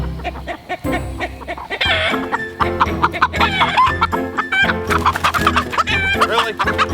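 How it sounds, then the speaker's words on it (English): Laying hens cluck busily and continuously close by, overlapping calls from several birds filling the whole stretch at fairly even loudness. "Little feed works magic on the laying hens"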